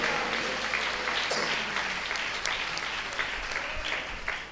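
A church congregation at a Tamil Sunday service claps together in a full, sustained round of applause that fills the room at a steady level throughout.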